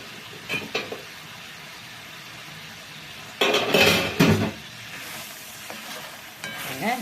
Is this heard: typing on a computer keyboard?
no